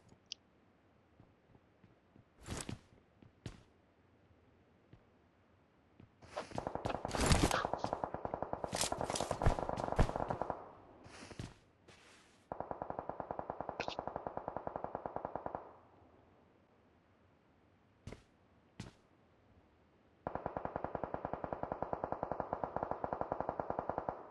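Bursts of automatic gunfire and single shots in a PUBG match on the Miramar desert map, some sustained loud rattles alternating with brief isolated cracks and quieter gaps.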